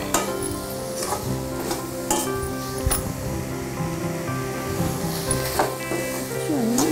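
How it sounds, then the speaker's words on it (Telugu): Grated coconut and jaggery are roasted together in a pan for a festival sweet, giving a soft steady sizzle with intermittent scraping stirs against the pan, close by and without speech. "ఇది బెల్లం కరిగి కొంచెం జిగురుగా వచ్చేంత వరకు వేగాలి."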